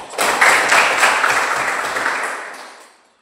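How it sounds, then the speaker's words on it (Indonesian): An audience bursts into close, loud applause, a dense wash of clapping that holds steady and then tapers off over about three seconds. "Mari kita berikan aplaus kepada semua."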